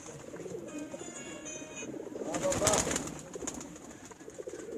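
Pigeons kept on a rooftop in Kharian coo softly in the background, rising to a closer burst of cooing and calls midway, with light ambient noise around them.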